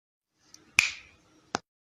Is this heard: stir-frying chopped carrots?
no